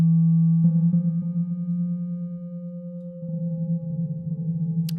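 Modular synth tone built in VCV Rack, fed through a delay effect: a steady sustained pitch with repeating echoes blooming in, growing denser and washier toward the end, moderately loud and alone.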